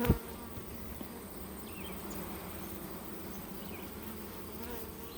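Honeybees drone in a steady, dense buzz around an open hive with wax-building frames, close and continuous after a brief knock at the start.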